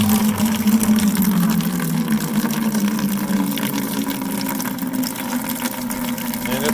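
A 12 volt DC well pump runs steadily in bypass mode, rinsing rust out of the line, giving a continuous close mechanical hum with a strong low tonal drone and watery rushing noise throughout.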